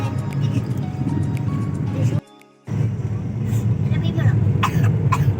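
A child coughs a few times amid chatter and the steady rumble of a moving vehicle, with a brief quiet gap in between.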